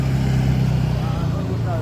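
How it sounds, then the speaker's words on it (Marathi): Road traffic near a road construction site in Dadar gives a steady low rumble of passing vehicles, heard beneath someone talking. "इथं गाडीचा आवाज वगैरे आहे"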